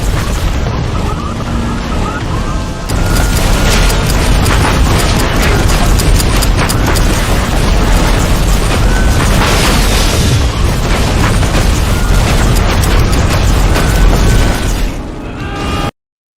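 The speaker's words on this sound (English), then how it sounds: "The explosions are screwing the surveillance up" Continuous loud booms and rumbling blasts roll one after another in a dense, chaotic barrage for the whole stretch, from explosions in the Iron Man 2 PC video game.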